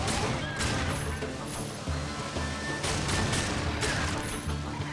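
Gunfire in the Darksiders II video game, a dense stretch of crackling shots and impacts over a steady rumbling game soundscape, loud and continuous throughout with no talk.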